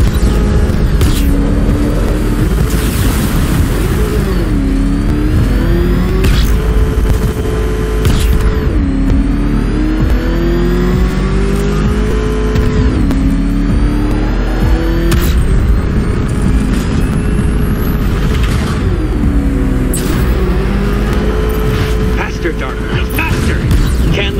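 A game vehicle's motor in Batman Arkham Knight growls and revs in rising and falling sweeps, loud and continuous, with booms and mechanical clatter and a voice talking over it.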